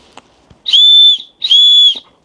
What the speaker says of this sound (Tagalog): Naisip nila yun na maglagay ng pito rito. For emergency